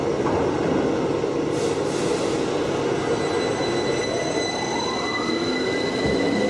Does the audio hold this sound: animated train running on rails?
yes